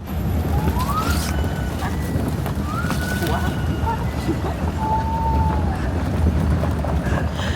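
Rising, whooping gibbon calls echo from a distance over constant wind and rumbling background noise at dawn in Kaeng Krachan forest, Thailand, repeating several times.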